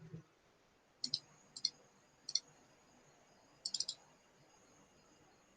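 A computer mouse clicking on a Windows 10 computer: several short, crisp clicks, some of them paired in quick double-clicks, spread across otherwise near-silent room tone.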